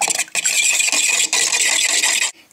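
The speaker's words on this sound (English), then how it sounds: "Add your egg and just give it a whisk." Egg being whisked into muffin batter with milk and vegetable oil in a bowl: continuous rapid scratchy whisking, loud and close, with a brief pause early on before it stops near the end.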